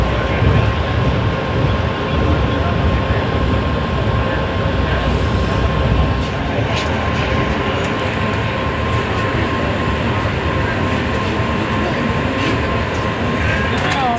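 A Vande Bharat express train picks up speed, heard from inside the coach as a loud, continuous rumble and rattle of wheels on track with steady mechanical hum.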